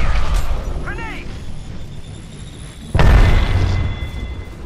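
Grenade blast in the Apex Legends shooter game: a sudden loud broadband boom about three seconds in, cutting through a steady bed of game noise, with a brief warbling tone and voices heard earlier.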